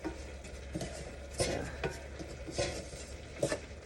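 A spoon stirs a dark roux for gumbo in a pot, with soft scraping strokes and occasional clinks against the metal recurring every second or so, close by and steady with no voices.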